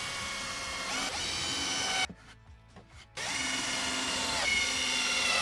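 Power drill driving into a reinforcement during a van conversion: steady, close whirring, cut off for about a second and then resumed just as loud, with no talking.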